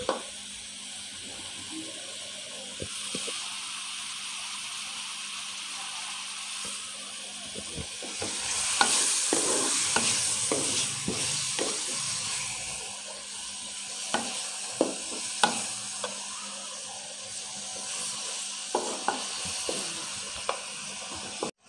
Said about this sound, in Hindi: अच्छा सा भून लेंगे इसको 3-4 मिनट के लिए